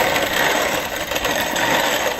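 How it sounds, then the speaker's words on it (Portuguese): A grain mill crushing 800 grams of Pilsner malt and 500 grams of wheat malt, mixed together, giving a continuous loud gritty grinding and rattling that carries evenly throughout without speech. "Aí é só moer."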